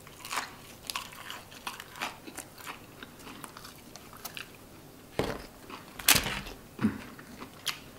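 Someone eats Wingstop chicken wings close to the mic, with scattered crunchy bites and soft wet chewing spread across the clip. A few louder crackling crunches stand out near the end.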